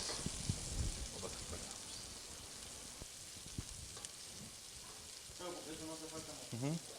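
Onion and mushrooms fry in a pot, giving a steady, fairly soft sizzle with occasional stirring clicks, while someone talks over it.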